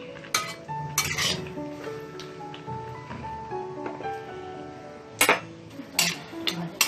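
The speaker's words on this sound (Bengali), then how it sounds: "একটা শুকনো লঙ্কা ফোড়ন দিয়েছে, আর সঙ্গে কি দিয়েছে, কালো জিরা আর কালো জিরা।" Dried red chili and black cumin fry in oil left from frying a hilsa fish head, with a faint sizzle under clattering pot-and-spoon knocks and scraping, plus a few loud metallic clanks near the end.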